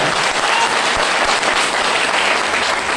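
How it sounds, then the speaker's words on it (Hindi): Loud, dense applause fills the hall from an audience at a motivational business speech, steady and continuous for a few seconds without any voice over it. "ताली जोरदार बजा दीजिए"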